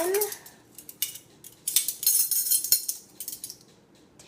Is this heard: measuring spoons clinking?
yes